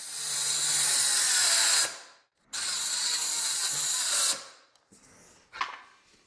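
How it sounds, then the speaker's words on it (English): Small Ryobi brushed cordless circular saw on an Edge battery ripping through wood, two loud sustained whining cuts broken by a short pause, then fading into scattered clatter. "let's just pop in this Edge battery and see if it can actually make the cut"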